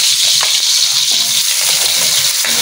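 Garlic, onion and ginger sizzle steadily in a hot pan, giving a close, continuous frying hiss broken by a few soft stirring clicks.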